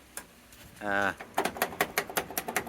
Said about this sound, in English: I can lock the car this way.